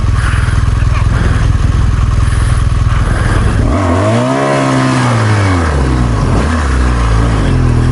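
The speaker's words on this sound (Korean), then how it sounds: "핸들 바로 잡고 풀악셀 쳐 바로 출발하면서" A rally car's engine roars loud and close at full throttle, rising and falling in pitch as it revs, with rough clattering from the car on a special stage.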